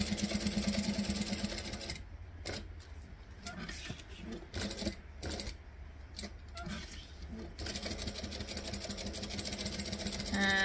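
A sewing machine stitches a Lola garment with a fast mechanical whir. The whir stops and starts in short bursts, then runs steadily again, close by and with no talking.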